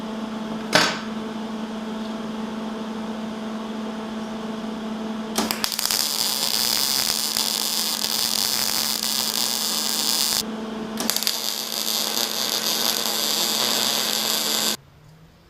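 A steel tailgate is tack welded in two long, loud crackling buzzes separated by a brief pause, preceded by a sharp click and a low electrical hum that cuts off abruptly at the end.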